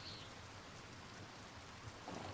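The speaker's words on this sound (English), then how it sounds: "I hope this rain lets up for you soon." Rain falls steadily in the video game Pentiment, a soft continuous hiss with faint low rumbles, quiet and even throughout.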